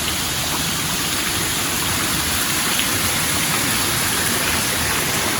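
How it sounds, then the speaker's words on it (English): Water rushing down a log-built wooden flume at the Mingus grist mill in the Smoky Mountains, a steady, dense wash of flowing water that holds evenly throughout, close and fairly loud with no voices. "Should be water just flowing down this flume."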